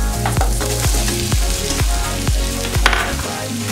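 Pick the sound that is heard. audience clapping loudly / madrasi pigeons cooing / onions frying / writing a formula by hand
onions frying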